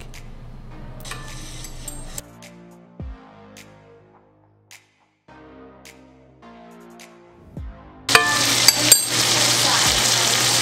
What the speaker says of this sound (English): kind of tilting our pan to a 45-degree angle so we can keep ladling and basting that steak